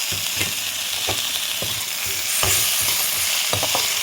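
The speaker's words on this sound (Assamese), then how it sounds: "এতিয়া মই এই কাটি থোৱা বিলাহীটো দি দিম।" Chopped tomato sizzles in a pan with potatoes for an Assamese bhedailota and puthi fish curry. A steady fry hiss runs under repeated utensil scrapes and clacks as it is stirred, with no talk.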